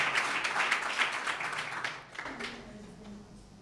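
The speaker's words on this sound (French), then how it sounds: "On l'acclame, Ashley." An audience at a national debate and eloquence championship claps for the best speaker, with dense applause for about two seconds that then fades into quieter scattered noise.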